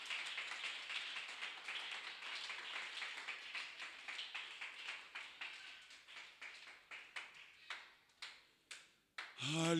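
A church congregation claps in praise of Jesus Christ, a dense patter of hands that thins into scattered, separate claps toward the end, then a brief sung or voiced tone at the close.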